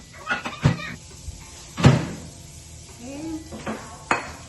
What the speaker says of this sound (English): I'm gonna pop this in the microwave.